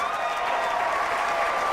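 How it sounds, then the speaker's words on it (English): An audience applauding a speaker on stage, a dense, steady burst of many hands clapping at once, loud and sustained without a break. "Do that again. The clapping."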